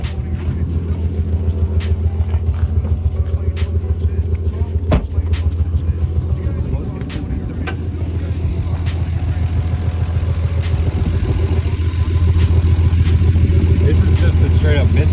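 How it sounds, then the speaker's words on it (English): A Lexus SC300 engine idles with a misfire, a steady low rumble with an uneven, stumbling pulse that swells slightly louder toward the end, while people talk nearby. "This is just a straight up misfire for sure."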